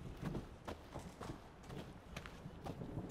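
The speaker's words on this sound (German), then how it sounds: "das scheinen die Pferde des Barons zu sein" Horses in a stable in the video game The Witcher 3, hooves clopping and shuffling in an irregular rhythm at moderate distance, fairly soft and without speech.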